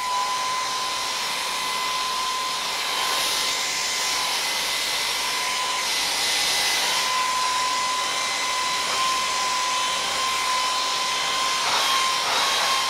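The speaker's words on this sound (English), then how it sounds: "other hair dryers where it's just the fan motor blowing air, you do actually get a slight bit of heat" A Philips Active Cool 1650 HP3462 hair dryer runs steadily with a close, constant airy roar and a thin, high motor whine, heard alone without any talk.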